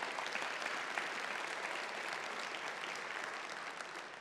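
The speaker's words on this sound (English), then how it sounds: "Please give them a round of applause." Applause from a college audience at an annual address, a steady, even patter of many hands clapping continuously, fairly distant and soft in level, with no talk over it.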